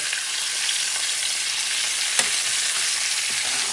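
Lamb chops fry in hot oil in a pan, a steady close crackling sizzle with a brief sharp tick midway, continuous and without any talking.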